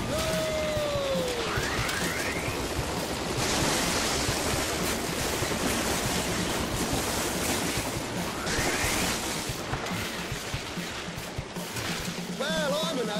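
Rushing waterfall water in the Downhill Domination video game, a steady broadband roar that runs the whole way with game effects and someone talking over it.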